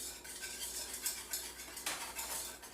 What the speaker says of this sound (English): And I'm stirring it up to a smooth mixture.